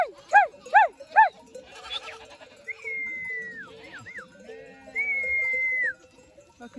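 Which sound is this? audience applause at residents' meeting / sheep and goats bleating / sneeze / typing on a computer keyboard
sheep and goats bleating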